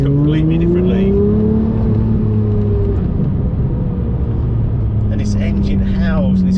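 A Lamborghini Murcielago LP670-4 SV V12 engine droning loudly from inside the car, with its pitch rising steadily and then falling while people talk over it.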